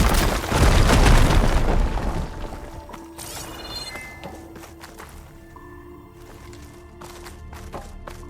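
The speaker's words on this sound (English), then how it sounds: "explosion." A loud, deep explosion booms in the video game Horizon Forbidden West, peaking in the first two seconds and then rolling off into a long, quieter rumble with faint scattered game sounds.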